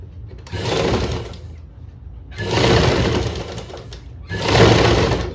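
A sewing machine stitches the belt onto a blouse sleeve in three loud, steady motor-driven bursts, separated by short pauses.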